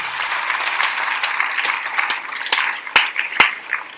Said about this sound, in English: Can we give Mr. Tillett a round of applause?